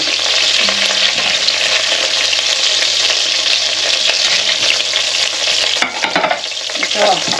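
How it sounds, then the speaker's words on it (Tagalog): Continuous crackling sizzle of chicken frying in a hot pan for Filipino adobo, with occasional scraping and stirring sounds, close and steady without talking. "Prito din natin to."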